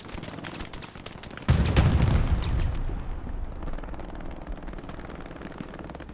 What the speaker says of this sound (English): Reverend Forrest with a nice MG position of his own